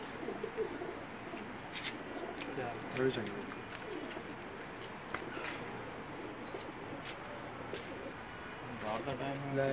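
Soft cooing of pigeons on a rooftop in Jeddah, Saudi Arabia, drifts in over a busy outdoor background, with faint voices and scattered noise around the birds.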